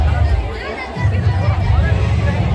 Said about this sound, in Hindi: जहाँ की हजारों की संख्या में भीड़ है।